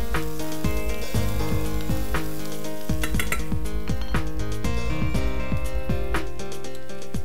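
Onions sizzle and fry steadily in a pan, lightly sautéed and starting to caramelize, with a loud continuous crackle and occasional scraping stirs throughout.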